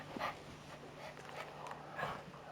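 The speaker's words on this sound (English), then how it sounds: "That's our dog Bentley" Bentley the dog makes soft whimpers and faint yips in the background of a quiet room, low and intermittent beneath a faint steady hum.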